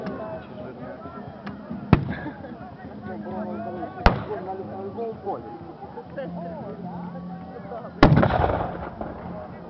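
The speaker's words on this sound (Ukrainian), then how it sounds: "Їх атаку підтримує артилерія." Cannon fire booms at a reenactment of the Battle of Berestechko, with three sharp, loud blasts spaced a few seconds apart over a busy background of voices and crowd noise.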